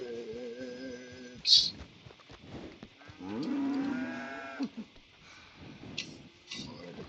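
Cattle mooing in the Red Dead video game: a long, low bellowing moo, then a second drawn-out wavering call, with a brief sharp click and scattered game ambience between.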